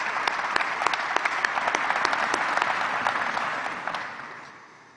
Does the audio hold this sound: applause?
yes